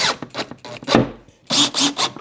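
Screws already set in a workbench's wooden drawer fronts are driven home in a series of short, close grinding bursts. A brief pause breaks the sequence before three more rasping pulses follow.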